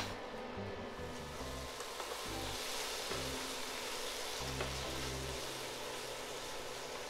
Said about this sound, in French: Et là, je vais saisir mes oignons, pareil, feu assez vif.